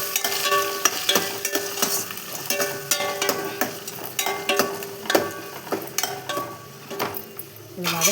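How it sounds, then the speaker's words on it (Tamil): Onions and green chillies sauté in a pan for vegetable rice, a moderate sizzle broken by repeated rhythmic scraping and clinking of a spatula against the pan, close and fairly quiet. "2 பச்சை மிளகா நல்லா வதக்கிக்கோங்க."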